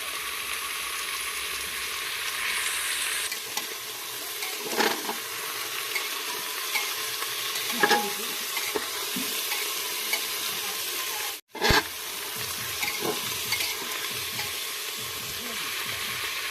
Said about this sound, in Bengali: এবার আমি দিয়ে দেবো আলুগুলো 1 থেকে 2 মিনিট একটু ভালো করে ভেজে নেব